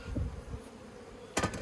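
Bees buzzing around the entrance of a top bar hive on a warm, sunny day, a low steady hum close to the microphone with a sharper, louder burst of buzzing near the end.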